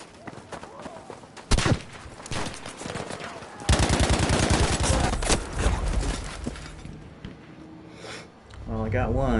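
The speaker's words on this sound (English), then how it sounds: "The recoil is pretty severe on this gun." A gun in Battlefield V fires in several bursts, with one sharp shot and then a long, loud stretch of rapid automatic fire. Someone talks over parts of it.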